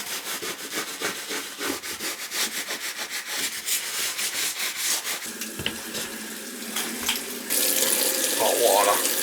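Hot water runs from a tap into a sink during a toilet replacement, with a rhythmic scrubbing sound over it, then the flow grows louder and steadier near the end.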